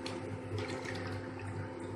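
A pot of water heating on a stove for multigrain baby food begins to bubble, giving a soft, steady low simmering burble with a faint hum underneath and no voices.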